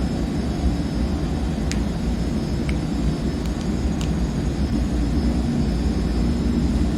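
A C160 Transall's turboprop engines run at full takeoff power in a flight simulator game, a loud steady broadband roar with a low drone that never lets up, a few faint clicks on top, and no voices.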